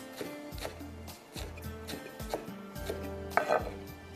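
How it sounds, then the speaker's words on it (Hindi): Green coriander finely chopped with a knife on a board, a fast steady run of close, crisp thuds in short bursts, with a brief clatter near the end. "बारीक बारीक काट लीजिएगा इस तरह से"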